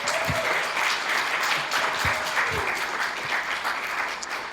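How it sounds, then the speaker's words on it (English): A crowd at a Star Trek convention panel on Long Island applauds organizers and volunteers, a dense, sustained round of clapping that fills the room without speech. "let's give them all a huge round of applause"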